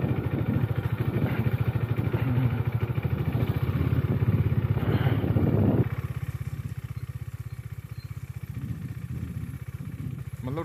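A motorcycle rides off-road up a rocky hill track with a close, loud, rhythmic engine chug. After about six seconds it drops to a lower, steadier running note.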